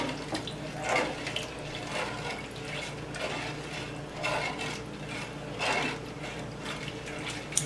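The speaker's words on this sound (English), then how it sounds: "I'm going to use some of this broth. So I'm going to pour it in here. And I want to stir as I pour" Chicken broth is poured into a pot for chicken and dumplings while being stirred, giving a continuous liquid splashing with rhythmic swishes of the spoon, close and moderately loud.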